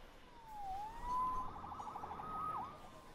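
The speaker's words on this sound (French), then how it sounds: "Sauvé par les sirènes." Police sirens in Marvel's Spider-Man video game wail at moderate distance, pitch sweeping up and down over a steady low rumble of city noise, with no voices.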